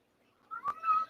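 A house cat gives a single short meow, close and clear in an otherwise quiet room.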